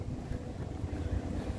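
Steady wind gusting outdoors at the Hong Kong Museum of Coastal Defence, a low rumbling buffeting against the microphone that continues without a break.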